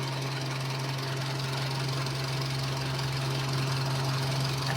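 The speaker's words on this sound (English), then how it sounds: "Idle looks good. Engine is very responsive." Nissan Pike car engine idling steadily, a close, constant low hum with a slight rhythmic throb and no talk over it.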